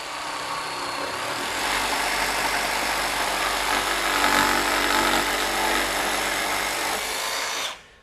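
RIDGID R86346B 18V sub-compact barrel grip jig saw on orbit setting 1 cutting through wood, a steady loud buzzing saw run for several seconds that stops abruptly at the end.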